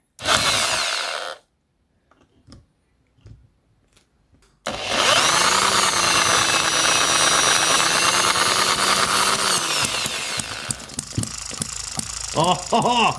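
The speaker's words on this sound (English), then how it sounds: "Now we've got the needle open a bit. So it's firing straight away." An M96 Oddball 2cc hit-and-miss model engine firing after a short silence, then running loud and close with a rapid steady buzzing beat that shifts toward the end into irregular sputtering pops.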